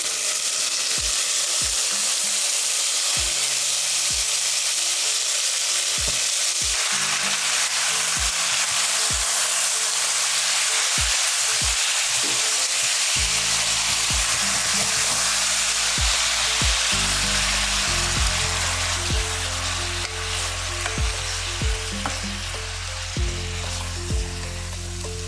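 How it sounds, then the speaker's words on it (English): Beef browning in a pot over curry spices that had been cooking on low heat: a loud, continuous sizzle and hiss, with repeated scraping stir strokes and clatter that grow heavier as the meat goes in, close and alone without talk. "So we're going to cook the meat until it browns"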